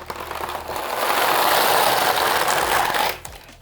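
A 1960s knitting machine's carriage sweeps across a row in one continuous rattling, whirring pass lasting about three seconds, close and loud, then stops.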